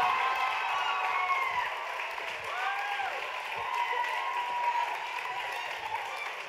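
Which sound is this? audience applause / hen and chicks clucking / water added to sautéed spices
audience applause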